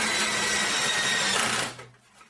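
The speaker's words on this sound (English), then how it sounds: "And we screw it on." A power screwdriver drives screws to fix plywood onto a wooden chair leg during a chair repair, a steady loud whirring motor for about a second and a half before cutting off abruptly.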